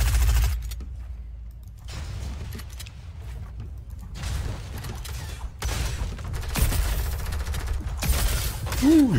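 Bursts of gunfire from a small submachine gun and other weapons in the video game Fortnite, loud rapid volleys separated by short pauses, with faint talk underneath.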